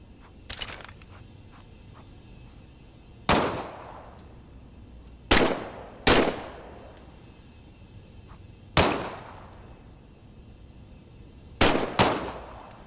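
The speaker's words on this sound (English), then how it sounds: "why don't you test fire your weapon?" Gunfire from a weapon test fire in the VR video game Medal of Honor VR: about six sharp, loud shots with metallic ringing decay, spaced irregularly across a quiet background, one pair fired in quick succession near the end.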